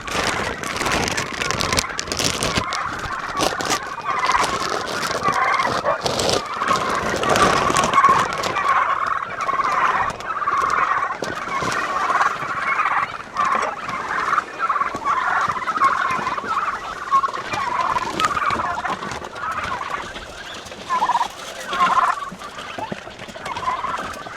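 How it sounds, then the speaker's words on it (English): Turkeys gobble repeatedly on a farm in the morning, a dense, continuous chorus of many birds close by, with a few brief spoken words mixed in. "Good morning, turkeys."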